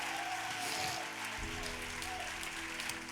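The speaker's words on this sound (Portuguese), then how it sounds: "Se você recebe essa palavra, dê um glória a Deus e aplaude o Senhor Jesus" A church congregation applauding during a sermon, a fairly faint, steady wash of clapping that runs for a few seconds without talk.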